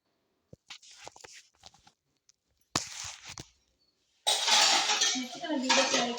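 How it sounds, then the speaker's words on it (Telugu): Dishes clatter and scrape in bursts, with a sustained stretch of scrubbing and running water near the end, close and fairly loud. "ఇప్పుడండి గిన్నెలు తోమడం"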